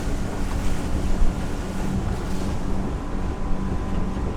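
A sailboat rushes through the water under steady wind, picking up speed, with waves washing along the hull and wind roaring over the microphone.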